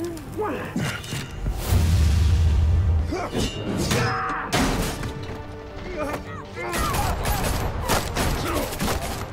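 Gunfire in Batman: The Telltale Series: loud, close bursts of shots mixed with crashes, impacts and whooshes, with voices speaking over parts of the action.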